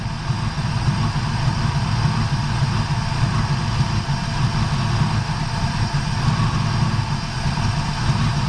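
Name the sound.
1975 Chevrolet El Camino engine running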